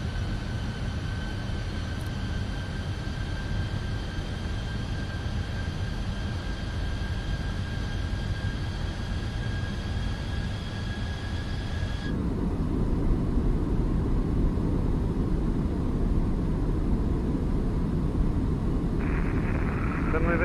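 An ITA Airways A320 lands in Microsoft Flight Simulator with a steady jet engine roar and cockpit hum, and a deeper rumble takes over partway through as the wheels meet the runway. No voices are heard over the engines.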